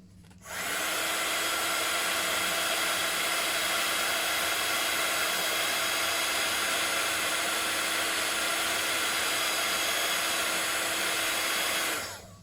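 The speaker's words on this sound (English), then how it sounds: "So we'll just heat emboss it again." A heat gun blows steadily for about twelve seconds while heat embossing a sunflower card, a loud, even, close hiss-and-whir that starts and stops abruptly, with no talking.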